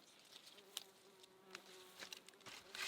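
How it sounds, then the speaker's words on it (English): Bees buzz around foxglove flowers in a wild summer garden, a faint, close, wavering drone with several brief louder passes as insects fly near, heard alone without talk. "I can hear the bees buzzing."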